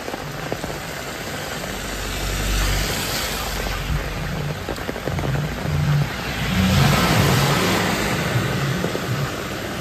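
Cars pass through heavy rain on a road near Jhakri Falls Park in Gangtok, their engines and tyres swelling in two hissing, splashing surges over a steady downpour.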